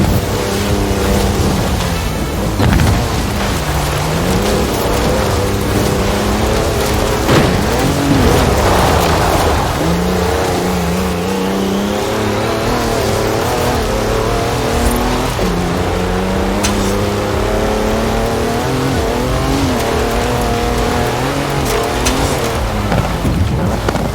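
A 340-horsepower car in Forza Horizon 4 accelerates hard, its engine note climbing and dropping through repeated gear changes in a loud, continuous roar with occasional tyre noise, lasting over twenty seconds without any speech.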